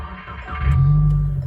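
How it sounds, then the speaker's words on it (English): A 2022 Subaru WRX engine cranks and catches, settling into a steady low idle nearby, with no voices. "and then we're gonna turn the car on."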